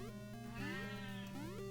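A cat meowing in the Super Mario Land video game, a single drawn-out synthetic meow with rising and falling electronic tones over looping game music, quiet overall.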